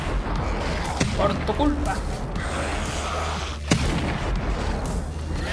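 Rifle gunfire in the zombie survival game 7 Days to Die during a horde night, with a few sharp shots and booms scattered under near, continuous talking from players.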